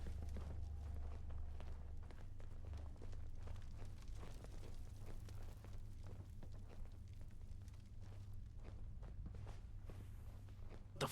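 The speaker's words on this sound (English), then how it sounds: "Everything's starting to sound like footsteps these days." Footsteps in the video game Fallout: London, a steady run of soft, muffled steps over a continuous low rumbling drone, fairly faint and with no talk.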